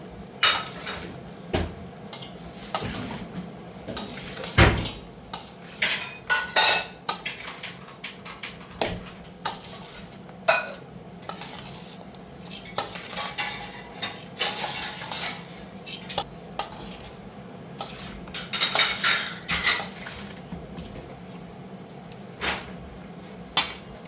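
A spoon scrapes and clinks against a jar and pan while mango pickle is packed into a jar, giving irregular metallic taps and scrapes throughout, close and fairly loud, with no speech.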